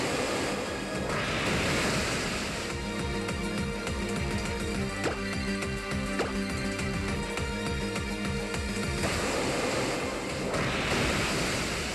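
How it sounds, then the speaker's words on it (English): The Waterfall attack plays in the Pokémon Alpha Sapphire video game as a loud, sustained rush of water that rises, holds steady and swells again at the end, with brief chime-like effects in the middle. "I'm gonna use Waterfall on it."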